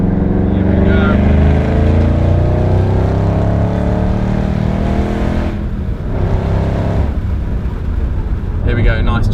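A 2011 Ford Shelby GT500 engine roars loudly and steadily, revving through a run of downshifts with rising and falling pitch sweeps.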